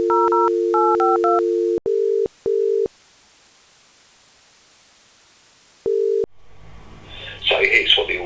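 Dialing tones on a Bang & Olufsen Beocom 1400 landline phone: a steady tone broken by quick keypad beeps, then a few separate tone bursts with silence between, before a voice starts talking at the end.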